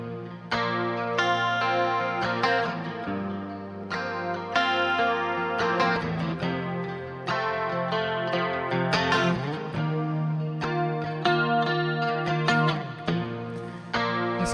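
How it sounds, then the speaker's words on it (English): A repeating electric guitar phrase with heavy chorus and distortion effects plays in a steady loop in Ableton, chords ringing out one after another without any voices. "So that sound is looped"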